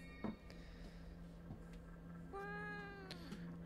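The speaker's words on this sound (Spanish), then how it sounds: "¡Hola, gatito! ¡Qué susto me has dado!" A cat in the horror game Fears to Fathom: Woodbury Getaway gives a single drawn-out, rising meow over a quiet room hum, near and clear, with no talk.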